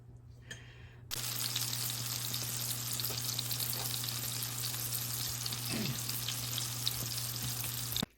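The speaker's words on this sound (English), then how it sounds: "now I'm going to fry these up and make lobster shrimp cakes" Lobster and shrimp cakes coated in panko frying in a pan, a steady close sizzle that starts abruptly and holds loud and even throughout, with a brief stir or shift near the end.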